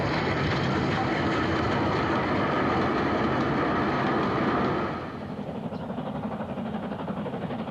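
A Class 37 diesel locomotive banking a train on a 1960s Pennine line, a loud, close, steady rumbling roar of engine and wheels that drops to a quieter running drone partway through.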